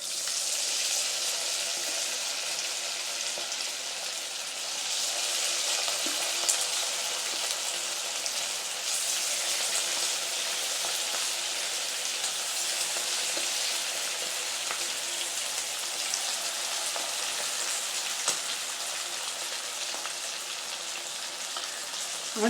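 Mutton 65 pieces deep fry in hot oil over a medium flame, a steady, dense sizzle with fine crackles that stays even throughout, close and with no talk.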